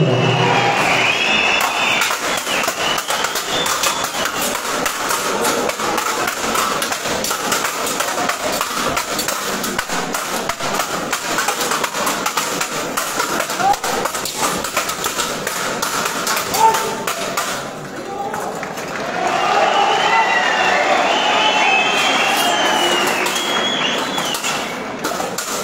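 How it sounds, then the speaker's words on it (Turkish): Audience at a youth gathering of a Turkmen associations federation in İnegöl gives enthusiastic applause, a dense, sustained roar of clapping with cheering voices, swelling again near the end. "Şöyle coşkulu bir alkış olsun inşallah."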